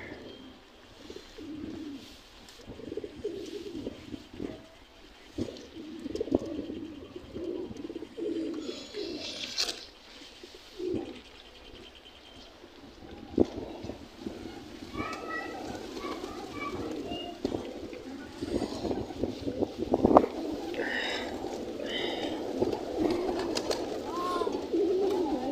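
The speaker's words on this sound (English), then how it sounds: "This the pigeon is friendly." Pigeons coo steadily in a racing pigeon loft, a low continuous burbling chorus of several birds close by, with occasional chirps and wing or handling noises and a person speaking briefly in the background.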